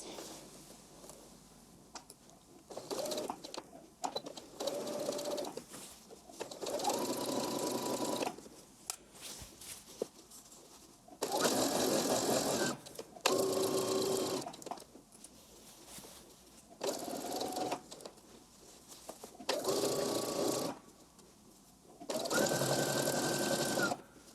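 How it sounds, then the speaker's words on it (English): A sewing machine stitches sleeves onto a dress bodice, running in a series of steady whirring bursts of a few seconds each, separated by short quiet pauses, close and clear. "And then you sew the sleeves in place."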